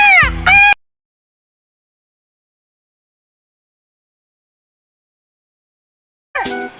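Two loud, harsh cartoon crow caws open a Shinchan Hindi cartoon episode, followed by long silence and then a third caw cut off at the end.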